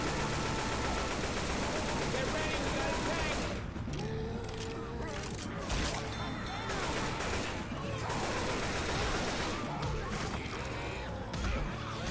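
Sustained gunfire in a heated Left 4 Dead 2 fight, dense automatic bursts and loud booms rolling almost without pause over chaotic game noise, with brief spoken shouts between shots.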